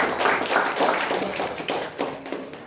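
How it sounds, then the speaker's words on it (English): Audience applause at a speakers forum, a dense, steady wash of many hands clapping that holds at an even level for the whole stretch. "Big round of applause."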